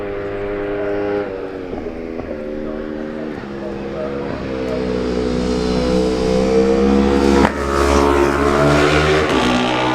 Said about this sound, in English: There's Yoshihiro Kishimoto, the Japanese rider, and he will be followed by Paul O'Rourke